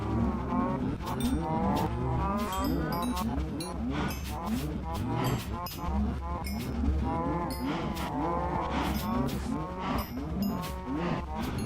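Many cows moo over and over in a crowded Minecraft cow farm, modded version 1.10, their overlapping calls dense and steady at close range throughout with no talking.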